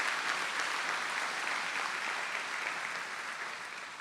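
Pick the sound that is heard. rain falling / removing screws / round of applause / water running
round of applause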